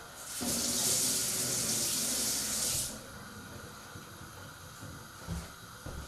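Tap water running into and rinsing out an emptied chopped-tomato tin at a kitchen sink, a steady close splashing rush for about three seconds, then stopping, followed by quieter handling clatter.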